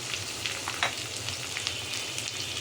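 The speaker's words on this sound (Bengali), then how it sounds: "তো পেঁয়াজটাকে একটু ভালোভাবে নাড়াচাড়া করব" Chopped onion, ginger and garlic fry steadily in hot oil for muri ghonto while being stirred, a close, even sizzle with small crackles and spatter throughout.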